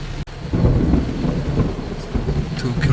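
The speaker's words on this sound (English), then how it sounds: "As you can probably hear, this thunder. It's quite impressive." Thunder from a tropical storm making landfall in Florida rolls as a loud, sustained rumble for nearly the whole stretch, following a brief sharp crack near the start, with rain noise mixed in.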